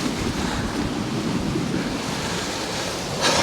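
Storm-force wind and surf roar at Poole Harbour during Storm Bert, a loud, steady broadband rush of waves and gusts buffeting the microphone, swelling brighter in the final moments.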